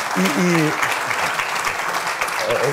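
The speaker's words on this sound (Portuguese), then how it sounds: "Sim, merece um grande aplauso." An audience applauds in a large hall, a broad steady patter of clapping, while a voice talks over it at the start and again near the end.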